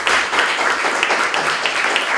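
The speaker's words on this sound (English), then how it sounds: "Please join me in applauding Bob." An audience applauding at the end of a seminar discussion, steady mid-level clapping from a room of listeners, continuous without a break.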